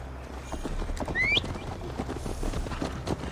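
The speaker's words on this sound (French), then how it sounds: "À cheval, Eivor. La chevauchée est longue jusqu'à Tamworth" Horse hooves clatter at a steady galloping rhythm in Assassin's Creed Valhalla, a continuous close drumming with a brief whistling chirp over it, no talk.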